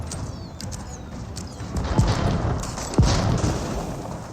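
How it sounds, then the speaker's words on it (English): Bombards in the video game Age of Empires 4 fire at a keep as two heavy booms land about a second apart over a busy background of battle clatter. "Bombards annihilates that keep."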